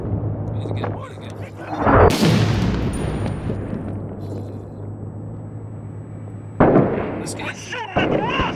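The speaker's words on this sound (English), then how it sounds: "We're getting reports of mortar fire from a rooftop in your sector." Mortar fire from 82 or 60 mm rooftop emplacements in the Six Days in Fallujah multiplayer game. Two loud blasts land a few seconds apart over steady battle noise, with voices talking around them.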